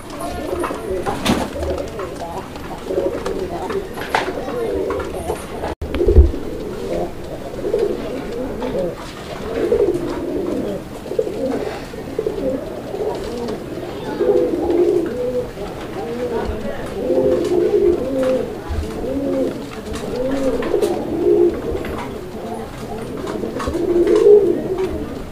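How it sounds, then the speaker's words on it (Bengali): A pair of Bombay pigeons, a red-coloured breed, cooing in a steady, repeated low rhythm close by, with someone talking over them throughout. "তো এইটাও হচ্ছে বোম্বাই কবুতর একটা জোড়া"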